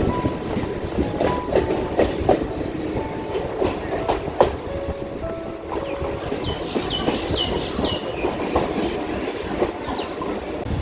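Passenger train running near the India–Bangladesh border toward Gede railway station, loud steady rumble with rhythmic clickety-clack of wheels over rail joints and occasional squeals, heard from on board.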